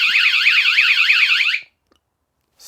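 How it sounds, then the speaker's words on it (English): A VanGuardian van alarm blares a loud, rapid warbling siren for about a second and a half, then cuts off abruptly into silence before a brief burst starts again at the very end. "I highly, highly recommend that you purchase this alarm system"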